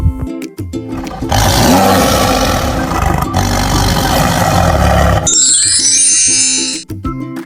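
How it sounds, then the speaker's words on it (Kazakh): A tiger gives a loud, rough roar lasting several seconds, a dense gravelly rumble close to the listener, set against a light musical backing with a tinkling chime afterward. "Ұлбарыс және оның күшігі мәулен"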